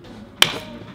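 During showroom assembly of a 2024 BMW R 1300 GS Triple Black motorcycle, a part snaps into place with one short, sharp click, close by and alone against a quiet background.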